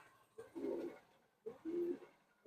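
Madrasi and Punjabi Malwai pigeons coo close by in two distinct throaty bursts, each a short rolling call separated by a brief quiet gap, with no speech.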